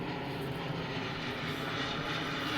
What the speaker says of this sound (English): This airplane.